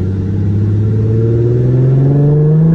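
A twin-turbo V6 Mustang fitted with a boost controller pulls hard in third gear, its loud, close engine drone climbing steadily in pitch for a few seconds without a break, with no voices over it.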